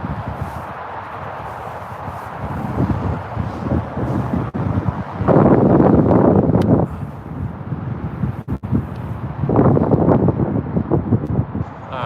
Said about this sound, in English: It's windy. It's not a gale force wind, but there is a breeze here.